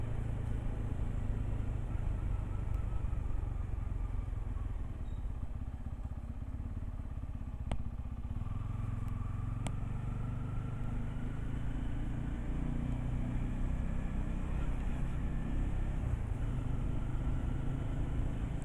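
A motorcycle called the Black Beast on a morning ride, heard as a steady close engine rumble with road and wind noise throughout and a slight shift in pitch partway through.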